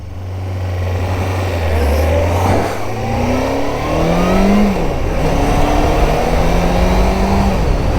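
Suzuki GSX-F600 motorcycle engine running after overheating on a hot ride, a steady loud drone with rising revs sweeping upward through the middle, continuous throughout with no talk.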